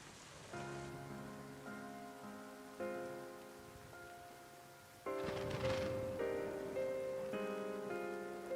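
Steady rain falls in a flashback scene, a faint continuous patter under sustained music chords.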